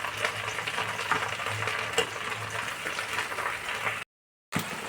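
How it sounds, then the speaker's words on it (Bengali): Chili baby corn being stirred with soy sauce in a pan, with a continuous soft scraping and gentle sizzle under the utensil, close and steady, then cut off by a brief dropout near the end. "এবার আমি সুন্দর করে এটা মিশিয়ে নেব"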